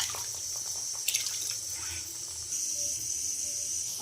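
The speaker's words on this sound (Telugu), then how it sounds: "కొంచెం వాటర్ పోసుకోవాలి" Water pours steadily into a simmering pan of curry, a continuous hiss and gurgle with a brief clink partway through, close by and fairly loud.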